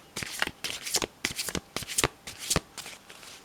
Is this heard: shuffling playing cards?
yes